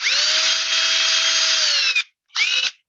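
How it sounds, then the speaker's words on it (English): A power drill bores a 1/8-inch hole for a dowel, a loud steady whine running about two seconds, winding down, then a second short burst after a brief pause. "I went and drilled the 1/8 hole."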